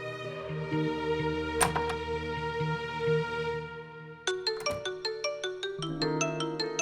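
A mobile phone rings in a domestic drama scene, a melodic tonal ringtone with repeated chiming notes over a low hum, fairly clear and continuing throughout.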